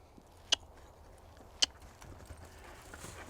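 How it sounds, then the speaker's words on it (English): A horse moving in a post pen, with two sharp, distinct hoof strikes over a soft background of movement and faint scuffing, fairly close, no talking. "We'll get him set up and canter again, and I'll get a little better canter departure this time."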